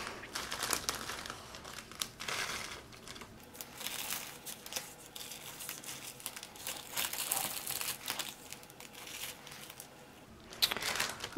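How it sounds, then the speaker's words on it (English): Sequins poured into a Christmas shaker card make a close, faint rustling crinkle, with scattered bursts of rattling and crackling over several seconds and no talk. "Now I'm going to dump these sequins in there"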